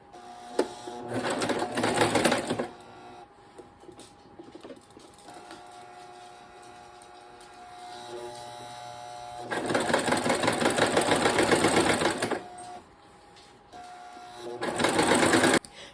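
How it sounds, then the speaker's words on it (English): A sewing machine stitches a half-inch fabric seam in a few fast, whirring runs, loud and close, with quieter gaps between them. "Place it under your presser foot, and we're going to take a 1/2 inch seam"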